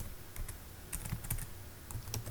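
Typing on a computer keyboard while entering data into a Microsoft Excel spreadsheet, bursts of quick close key clicks with short pauses between, quiet and alone without talk.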